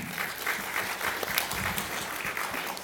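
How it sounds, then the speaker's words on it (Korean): Audience applause after a government presenter's talk on simplifying startup support paperwork, a steady dense clapping from a crowd filling the room throughout, fairly close and even in loudness. "다시 한번 큰 박수 부탁드립니다"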